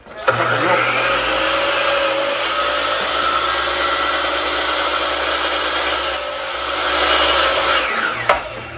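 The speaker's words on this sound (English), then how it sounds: "I've got a sliding miter saw, but you could also do this with a handsaw or whatever you can do." A sliding miter saw cuts a point onto a wooden rose stake, a loud steady whine of the motor and blade through wood that runs for several seconds before spinning down with a final knock.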